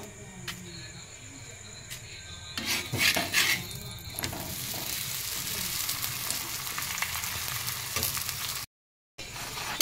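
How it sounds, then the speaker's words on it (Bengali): A semolina and potato paratha frying in ghee makes a steady, close sizzle. A burst of scraping and rubbing comes early on, then the crackle carries on evenly, with a brief drop to silence near the end. "আর আমি আজকে সম্পূর্ণ পরোটা ঘি দিয়ে ভাজবো"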